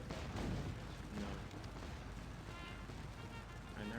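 Artillery cannons fire in a Scourge of War battle, rendered as a faint, dense rumble of distant booms blending into a continuous low roar across the moment.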